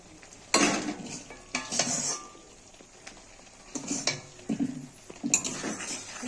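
A spoon stirs prawns through a chilli-and-turmeric spice paste in a pan, making several bursts of scraping and clattering against the metal with faint sizzling between them. The strokes are close and moderately loud, and no one speaks.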